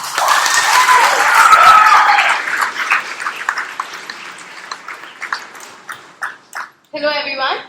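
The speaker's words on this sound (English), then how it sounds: "with a huge round of applause and enthusiasm, I want you to welcome the first speaker on stage" A student audience applauds and cheers loudly to welcome the first speaker on stage at a talk session. The clapping peaks early, then thins into scattered claps, and a voice begins speaking at the end.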